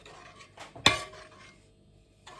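Majablanca mixture is stirred in a pot, with one sharp metallic clank of the utensil against the pot among softer scrapes, close and otherwise quiet.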